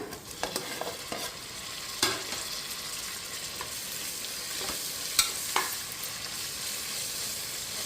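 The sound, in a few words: tomatoes being added and stirred in a frying pan for tomato rice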